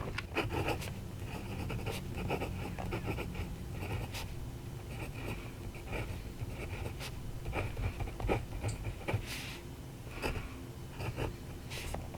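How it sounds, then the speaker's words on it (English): A PenBBS 459 fountain pen with a 323 medium nib scratches steadily across paper, with close, continuous writing strokes and small taps, and no voices. "Let's see how that 323 medium nib writes"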